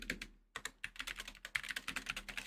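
Rapid clicking keystrokes on a mechanical computer keyboard, dense and uneven in rhythm with one brief pause, fairly quiet and close.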